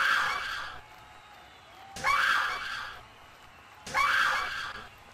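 A wrestler screams during a wrestling match, three loud, sharp bursts spaced about two seconds apart, each fading into a quieter crowd murmur.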